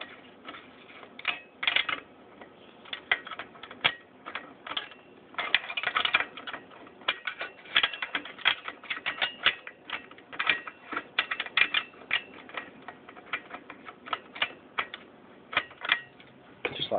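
A multi-wrench tightens a three-piece bicycle crank, giving close, steady ratcheting clicks in uneven bursts that run continuously with brief pauses.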